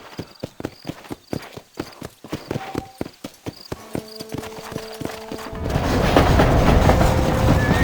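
Horse hooves in Red Dead Redemption clop in a quick, steady galloping rhythm, loud and close, before giving way to a louder, dense rush of noise near the end.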